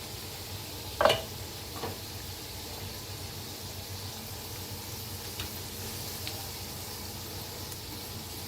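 Jaggery and peanut karanji fry in hot oil with a faint, steady sizzle. One sharp utensil clink sounds early on, followed by a few softer taps.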